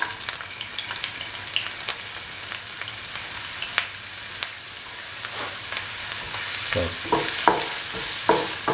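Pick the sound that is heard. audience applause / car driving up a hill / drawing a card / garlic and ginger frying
garlic and ginger frying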